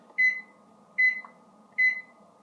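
A microwave oven beeps three times at an even pace as it finishes melting margarine, each tone short, clear and bright over a quiet background hum.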